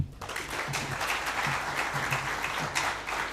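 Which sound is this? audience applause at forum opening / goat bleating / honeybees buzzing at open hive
audience applause at forum opening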